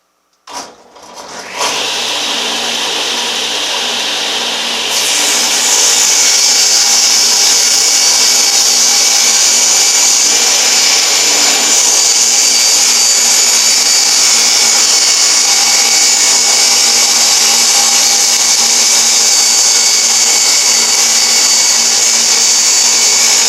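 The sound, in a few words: old Sears table saw cutting a 2x4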